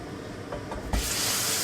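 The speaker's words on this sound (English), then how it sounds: "Hear that sizzle? Yeah, that's what you're looking for." A steady broadband sizzle suddenly starts and keeps going, loud and close, like a T-bone steak hitting a hot pan, with a few faint clicks just before.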